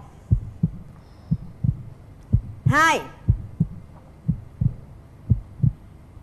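A slow, steady thumping heartbeat sound effect plays on a Vietnamese dating game show, about a dozen low beats in pairs, with a brief bright rising chime sweeping over the middle and a voice counting along.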